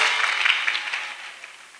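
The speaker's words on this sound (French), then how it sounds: "Clap offering to Jesus Christ" A church congregation applauds in a burst of clapping that starts loud and fades over nearly two seconds, with no talking over it.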